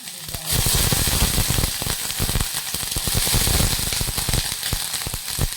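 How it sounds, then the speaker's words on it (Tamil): Washed whole small onions (shallots) hit hot oil for a Tamil-style sambar, setting off a loud, steady sizzle with dense crackling and popping that carries through the whole stretch. "இப்போ அலசி வச்ச வெங்காயத்தை போடணும்"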